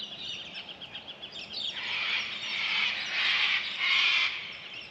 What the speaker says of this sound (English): Cockies, galahs, kookaburras, magpies, all little finches.